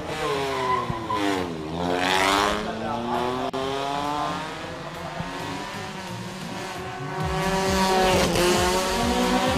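Mazda Familia race car climbing the Eliyakanda hill climb course, engine loud and near, pitch sweeping down and up through gear changes with tire squeal, under a commentator's voice.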